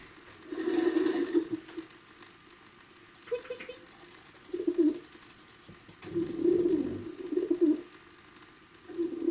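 A pigeon coos in several soft, throaty bursts spread across the span. Quiet pauses fall between the calls, and a faint rattling texture sits in the background.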